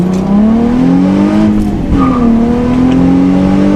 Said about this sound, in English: So now, starting in first gear, let's see how this thing goes.